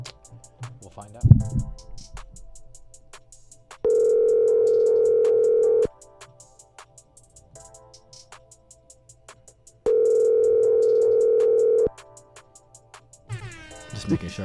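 Phone ringback tone heard while waiting for a call to be answered: two long, loud, steady beeps a few seconds apart, separated by quiet stretches with faint background noise and a brief thump at the start.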